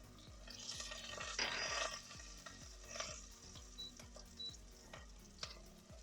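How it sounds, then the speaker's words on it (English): Ground black pepper, garlic-ginger paste and curry leaves fry softly in a pan for a tinned fish curry, a low steady sizzle with repeated stirring scrapes and a few faint clicks. "Just fry those spices for about 30 seconds."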